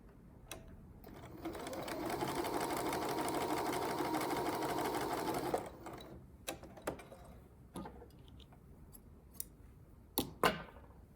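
A sewing machine stitches a buttonhole in one steady, loud whirring run of about five seconds, then stops. Several short clicks and snips follow, some of them sharp, with quiet gaps in between.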